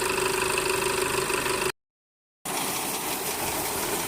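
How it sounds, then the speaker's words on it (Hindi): A Sonalika 750 tractor running a mounted Shakti Kissan reaper binder gives a steady mid-pitched engine drone, cut by a brief silent gap before the running machinery resumes, with no talk. "सोनालिका 750 पे मशीन लगी हुई है। हम इसको आपको चला के दिखाते हैं ये कैसा परफॉर्मेंस करती है।"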